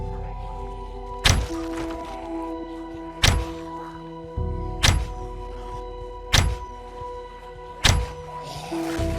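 Compound bow in the Project Zomboid video game being shot and reloaded, giving five heavy thunking thuds spaced roughly every one and a half seconds over a steady low droning background.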